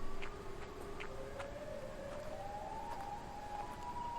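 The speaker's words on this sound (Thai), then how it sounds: "มันเป็นเสียงไซเรนนะฮะไซเรนแบบ พวกรถโรงพยาบาลเนี่ย" An ambulance siren inside a horror video game wails faintly and steadily, its tone slowly rising over a few seconds against a low background of game ambience and soft footsteps.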